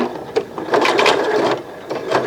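A sewing machine stitching a garment makes an uneven clicky, rattling whir in short bursts, close and moderately loud, with no one speaking.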